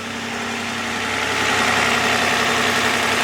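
A 2011 Toyota RAV4 engine idles steadily at close range, a continuous mid-pitched hum with a faint rising vibration and no voices over it.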